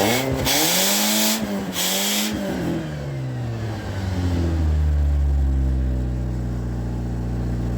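A 16-valve car engine with a tuned exhaust revs hard several times, then settles into a loud, droning high-rev hold. No voices are heard.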